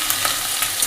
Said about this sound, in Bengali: দেখো এইসব সবজিগুলো সব ফ্রাই করতে করতে